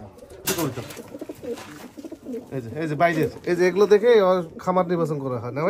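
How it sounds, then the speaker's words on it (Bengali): Farm-bred racing pigeons coo in soft rolling calls close by, heard beneath two men chatting in a pigeon loft. "এই যে এগুলো খামারের কবুতর"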